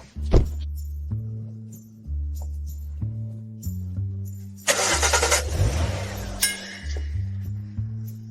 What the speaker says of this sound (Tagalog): Ang pagpapaandar sa klasikong kotse na ito ay magiging napakadali lang.